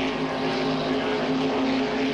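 Super stock class hydroplane race boats with 427 cubic inch engines drone steadily at a distance, a continuous engine hum with a strong tonal note at a regatta before the start.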